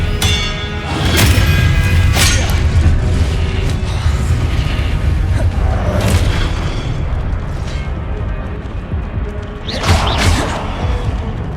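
Booming spell blasts from Confringo in the Hogwarts Legacy video game, a loud, dense run of deep explosions and crashes with sharper bursts near the start and again around the tenth second.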